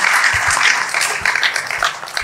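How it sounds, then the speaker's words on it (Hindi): Close, loud applause from a mushaira audience in Patiala welcoming a poet to the stage, many hands clapping in a dense, lively burst without a break. "आप तालियों से उनके इस्तकबाल पर आओ"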